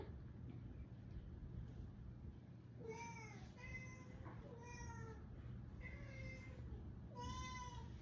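A cat meows about five times in a row, each call rising and falling, over a steady low background hum.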